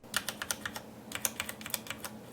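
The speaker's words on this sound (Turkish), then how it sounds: "Çıkardıkları ses normal bir klavyeye göre fazla elbette" Typing on a Corsair mechanical keyboard with MX-style switches, quieter than most mechanical boards: a steady run of close, crisp key clicks in an uneven rhythm, with no voices.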